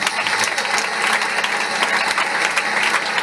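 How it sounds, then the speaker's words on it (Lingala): A church congregation at a prayer gathering in a camp in Kinshasa bursts into loud, sustained applause, dense clapping filling the space throughout with a faint murmur of voices underneath. "Est-ce qu'on peut acclamer très fort pour le Seigneur?"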